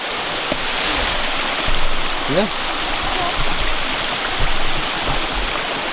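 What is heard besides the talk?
waterfall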